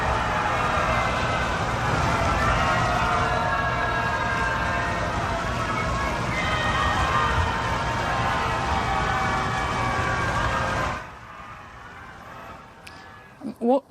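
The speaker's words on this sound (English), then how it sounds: "The president went to pay his respects to Supreme Court Justice Ruth Bader Ginsburg this morning, and he was booed." Crowd gathered outside booing President Trump as he pays respects to Justice Ruth Bader Ginsburg, a loud, steady, roaring wash of jeers lasting about eleven seconds, then cutting to near silence.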